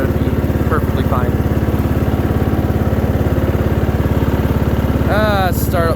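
A Craftsman 13.5hp riding lawnmower engine runs at half throttle with a steady, loud, even chug close by, while someone talks over it.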